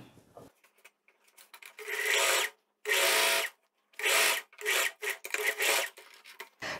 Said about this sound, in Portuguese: colocando os tecidos direito com direito e passando a costura